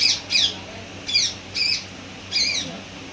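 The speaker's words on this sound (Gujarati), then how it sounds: "જે ગાંગડી રહ્યું છે એ છે પોપટ" A caged parrot squawks harshly in short bursts, about five calls spaced unevenly, fairly close against a quiet background.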